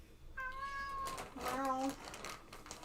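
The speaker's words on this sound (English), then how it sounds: "Meow." A cat meows twice in quick succession, the first call drawn out and the second shorter and rising, heard fairly close in a quiet room.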